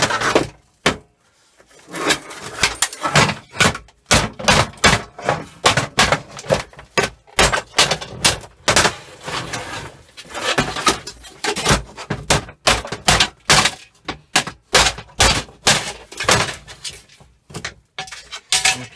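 A hammer repeatedly clouts the metal hood of an old hair dryer, giving a fast, loud run of sharp clanging and banging impacts, with a few brief pauses, close to the microphone.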